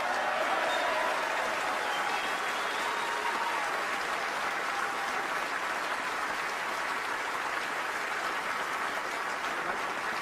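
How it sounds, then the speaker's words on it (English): Steady audience applause at a snooker final for Ali Carter, dense and sustained throughout, filling the hall evenly without breaks. "But Ali, our applause goes to you, ladies and gentlemen."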